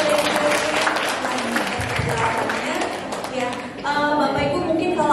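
An audience at a Grade X parents' meeting and parenting seminar applauds in a short burst of clapping mixed with crowd murmur, and a voice speaks over it near the end.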